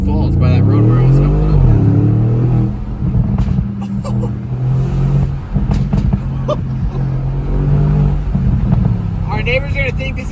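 Audi S6 fitted with a 034 Motorsports X pipe exhaust, its engine revving loudly and close with deep low-end grunt, rising and falling in pitch throughout while people talk excitedly over it.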